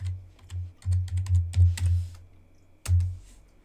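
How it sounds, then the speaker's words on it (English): Quick bursts of keystrokes on a computer keyboard, close and crisp, in uneven clusters with a short pause before a final flurry of taps; no voices. "We'll type latest."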